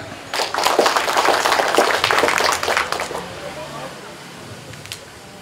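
An indoor audience at a fisheries quarantine quality month ceremony in Pangkalan Bun claps for about three seconds, a dense crackle of many hands that fades out into quiet room tone.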